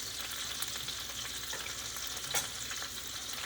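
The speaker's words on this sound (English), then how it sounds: "So I'm going to actually turn my heat down a bit and allow the onions to saute" Onions for beef bourguignon sauté in a pan over lowered heat, giving a quiet, even sizzle with a few light stirring taps, close and alone.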